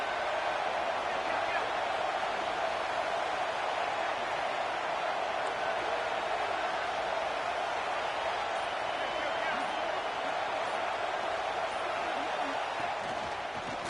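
Stadium crowd at a college football game keeps up a steady, loud roar from start to finish, with no clear breaks or distinct cheers standing out.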